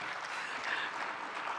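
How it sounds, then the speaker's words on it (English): Audience applause at an oil and gas industry convention panel in Indonesia, a steady, dense wash of clapping filling the room throughout the short stretch. "Round of applause for Pak Nanang."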